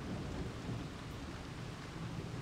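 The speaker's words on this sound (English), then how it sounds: "Here we can see the rain pouring down still, catching a little bit on the bamboo leaves." Heavy rain pours down onto bamboo leaves at a Thai wildlife sanctuary, a dense, steady wash of drops with a low rumbling undertone that holds for the whole stretch, with no voices.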